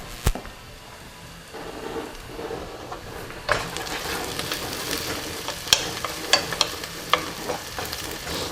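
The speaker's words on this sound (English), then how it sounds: "I'm going to let this fry a little bit more." A chicken drumstick sizzles in oil in a frying pan, with steady crackling that grows louder partway through and sharp pops and spatters toward the end.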